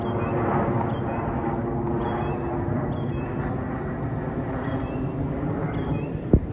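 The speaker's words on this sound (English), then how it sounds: "but here goes another plane" An airplane passes overhead as a continuous low engine drone that hangs steady in the background, with faint bird chirps above it.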